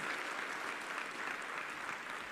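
An audience claps for vaccination workers who fought the COVID epidemic, a steady, faint, even wash of applause with no single claps standing out.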